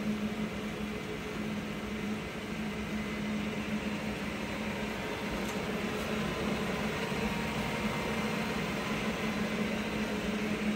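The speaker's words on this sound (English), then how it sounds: "Working of spindle at its maximum speed, that is" A Mecca Turn 460x1000 lathe from Korea with its spindle running at its 1500 rpm top speed, giving a steady, even mechanical whir and hum that holds unchanged throughout, with no voices.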